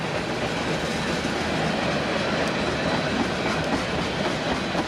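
A train rolls past on the rails in a loud, steady rumble with rhythmic clickety-clack of the wheels over the joints, heard up close for several seconds with no voices.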